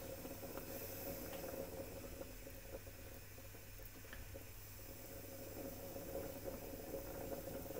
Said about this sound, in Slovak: ryža sa nám začala variť